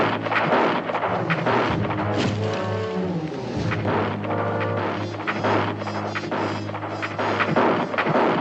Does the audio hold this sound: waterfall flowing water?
no